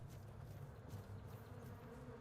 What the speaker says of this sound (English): Okay, so you can hear the bees, right?